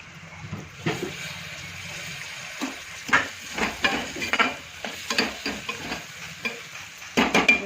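Spiced oil sizzles steadily in a pan for desi chana pulao while a spoon stirs in frequent scraping bursts, the hiss close and continuous beneath the clatter.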